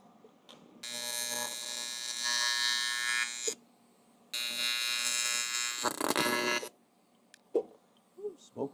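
Two bursts of TIG welding on an aluminum cylinder head from a Kawasaki KX250F give a steady buzzing, crackling arc hum, each lasting a few seconds, with quiet gaps and faint clatter between them.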